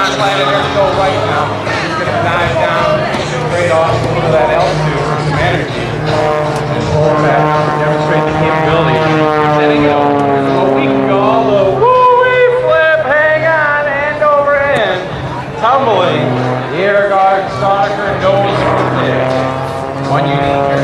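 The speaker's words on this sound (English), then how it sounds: "Watch John Klatt in there go right now. He's going to dive down straight off into that altitude for some energy." An S-300 aerobatic plane of wood, fabric and composite dives during the 2010 Jones Beach airshow. Its loud propeller engine drones and shifts in pitch throughout, while an announcer talks over it.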